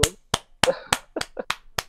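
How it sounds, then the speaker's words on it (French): A few people clap sharply and sparsely, about eight distinct slaps at a quick uneven pace, close and dry with no crowd roar, as a small audience applauds a storyteller on a medical-themed call-in show. "On applaudit Gigi."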